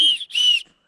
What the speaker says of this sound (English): can you hear that loud, annoying sound that sounds like a whistle?